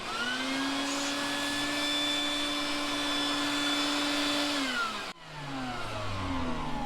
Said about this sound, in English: vacuum out the line with a wet dry vac